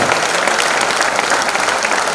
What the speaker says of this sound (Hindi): एक बार जोरदार तालियों की गड़गड़ाहट के साथ हम चाहते हैं कि मैम का स्वागत हो